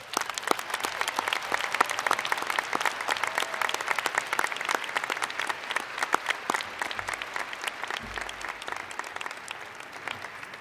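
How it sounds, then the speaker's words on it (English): Sustained applause from a large audience at a business school undergraduate commencement ceremony, steady dense clapping filling the whole stretch without a break. "join me in giving these amazing folks a thunderous round of applause they so rightfully"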